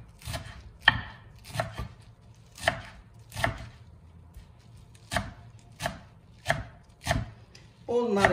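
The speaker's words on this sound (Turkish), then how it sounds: "Nane ve maydanozunu doğruyorum." A knife chops fresh mint and parsley on a cutting board in evenly spaced, crisp strokes, about a dozen close taps at a steady unhurried rhythm.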